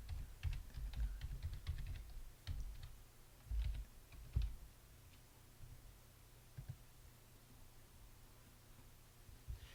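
A password is typed on a computer keyboard, with rapid clusters of soft key taps and clicks in the first half, then a few scattered presses amid quiet background hiss.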